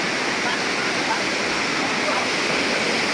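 A fast-flowing river rushes past near the Kottiyoor temple in Kerala, a loud, steady roar of water close to the listener while someone talks over it.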